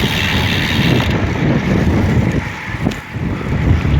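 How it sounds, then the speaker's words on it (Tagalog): Strong wind roars steadily and buffets the microphone, a loud, continuous rushing noise with a low rumble, no voices. "Grabe lintik ang hangin. Sobrang lakas."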